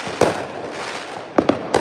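Firecrackers pop outdoors: four sharp, loud bangs, with one single crack followed by a quick cluster of three, over a low background rumble of more distant bursts.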